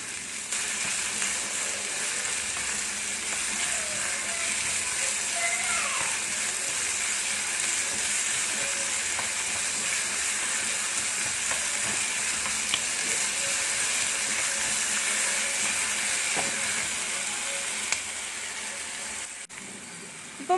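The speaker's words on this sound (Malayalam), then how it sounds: "ഇനി നമ്മൾ നന്നായി ഇത് ചെറുതായിട്ട് ഇളക്കി വേവിച്ചെടുക്കണം" Mango ginger fries in a pan while being stirred, giving a steady, even sizzle and hiss with a few faint scrapes, alone and continuous.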